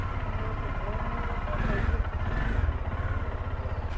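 Motorcycle engine while riding, a loud, continuous, throbbing mid-range engine rumble close by with steady pulsing, rising slightly partway through, heard alone without talk.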